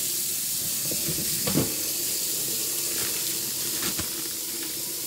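Water pouring into a blender jar with fruit for a smoothie, a steady splashing hiss with a few brief gurgles, close and moderately loud.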